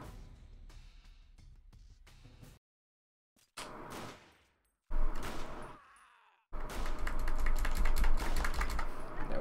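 Rifle gunfire in the online shooter WarRock during a free-for-all kamikaze rifle match, heard as rapid bursts and shots separated by brief silent gaps, growing louder and denser toward the end.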